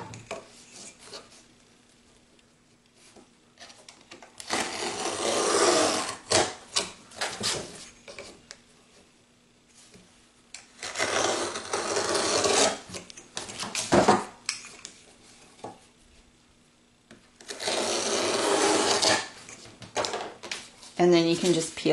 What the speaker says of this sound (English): I'll go in and cut the edges on all four corners, or all four sides